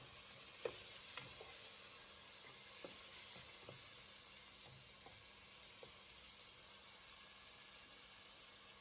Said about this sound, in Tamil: தக்காளி பழம் சேர்த்து அதையும் ஒரு வதக்கிட்டு